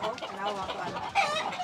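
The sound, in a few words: chickens clucking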